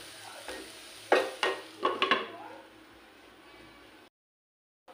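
Potato curry being stirred in a pot with a spoon, then covered with a lid. Several sharp scraping clacks of utensil against metal come close together over a faint background hiss, followed by quiet.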